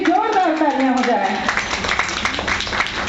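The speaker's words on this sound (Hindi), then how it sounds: "उनके लिए भी जोरदार तालियां हो जाए" An audience at a Women's Day celebration bursts into applause right after a voice speaks. The clapping is a dense, fairly loud patter that fills the second half.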